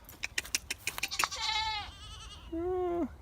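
A goat on a farm gives two clear, nasal bleats near the microphone, each about half a second long, after a run of sharp tapping or clattering sounds at the start.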